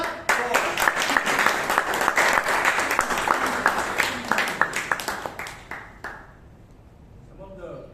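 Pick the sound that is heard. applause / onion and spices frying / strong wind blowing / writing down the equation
applause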